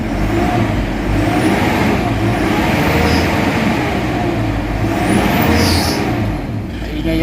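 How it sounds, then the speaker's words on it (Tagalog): An Isuzu MU-X engine with a blow-by problem idles with a noisy belt, giving a steady, close, continuous hum and whir plus a faint high squeal throughout. "Maingay yung belt."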